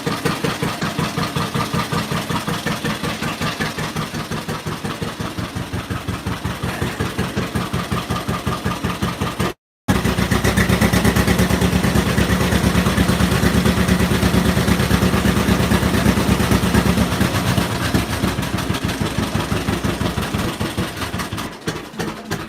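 A John Deere Model A tractor engine idles after its first start in eight years, with the distributor slightly out of adjustment; a loud, steady, close chugging runs throughout, broken only by a brief dropout midway.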